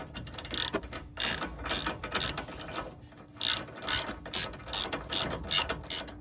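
Ratchet wrench clicking in repeated bursts on the crash bar support bolts of a 3rd Gen 4Runner, close and loud, with short pauses between sets of strokes.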